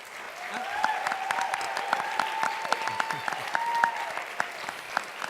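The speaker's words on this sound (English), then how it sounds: "keep clapping for our panel." Audience applause for a panel at a Black Lives Matter event at De Anza College, steady dense clapping throughout with a sustained tone running beneath it in the first half.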